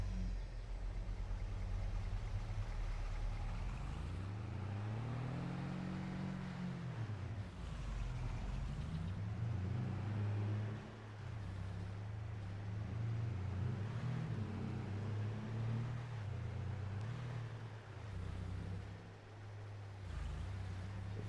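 A truck's engine in Farming Simulator 22 on a Western Australia map, droning steadily as it drives, its pitch sweeping up and down with acceleration and gear changes, with no voices.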